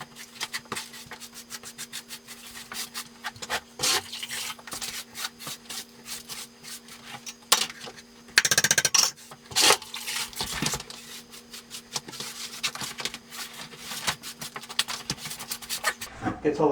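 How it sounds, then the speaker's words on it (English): Dust is wiped off a plywood subfloor before tiling, with a series of irregular scraping and rubbing strokes, close and fairly quiet, and one louder burst partway through over a steady low hum. "Gets all the dust off, dampens the plywood"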